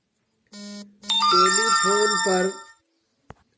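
A melodic electronic phone ringtone plays a short tone, pauses, then a rising ring pattern, followed by a faint click.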